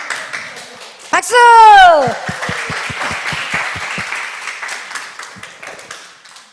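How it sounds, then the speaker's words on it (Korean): Applause in a church service, with a brief swooping tonal sound at the start followed by a rhythm of distinct individual claps over a softer murmur of clapping. "박수!"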